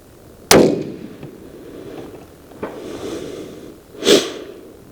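A single sharp rifle shot fired at a small long-range target in windy conditions, loud crack with a fading echo, then a faint distant impact and a brief rustle a few seconds later.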